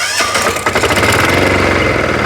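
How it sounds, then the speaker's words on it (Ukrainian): A small Weima diesel engine on a walk-behind tractor cranks and fires up, then runs with a loud, rapid, knocking chug very close by. "Вижимаємо декомпресор і, шановні, запускаємо мотоблочку."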